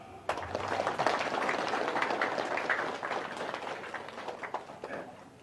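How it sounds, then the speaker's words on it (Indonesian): Applause from an audience at an Indonesian religious gathering, a dense, steady patter of many hands clapping for about five seconds, fairly loud and close, with no speech over it. "Tepuk tangan."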